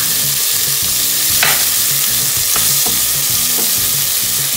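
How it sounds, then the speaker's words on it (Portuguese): Onion fries in a pan with loud, close sizzling and crackling, punctuated by a few sharp clinks and scrapes of stirring, with no voices. "A cebola fritar."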